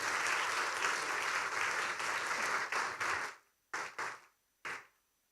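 Warm applause from an audience at a Korean CBMC convention welcoming a bank president to speak, dense and steady for about three seconds before fading into a few scattered final claps.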